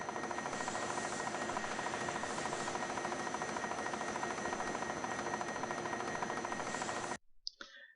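A drill fitted with a square-hole attachment grinds against a metal workpiece with a continuous whirring, buzzing rub that stops abruptly near the end, followed by a few faint clicks.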